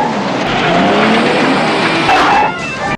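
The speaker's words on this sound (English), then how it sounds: "the car sounds more like it's on pavement with all the screeching you hear" Car tires screeching in a chase scene from an A-Team TV episode, a continuous loud squeal with a revving engine, the tone sliding as the car swerves, then cutting off abruptly at the end.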